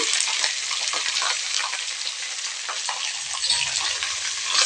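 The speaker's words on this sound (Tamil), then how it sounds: "இது நல்லா வதங்கிட்டுங்க. வதக்கி விட்டுக்கலாம்." Finely chopped onions with curry leaves sauté in hot oil, giving a loud, dense, continuous sizzle close up, with occasional stirring scrapes and no voices.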